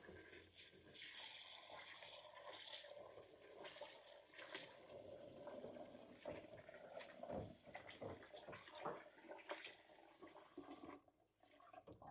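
Rice being washed by hand in a bowl of water in a home kitchen, a steady close sloshing and swirling of water with sharper splashes as the grains are rubbed and rinsed.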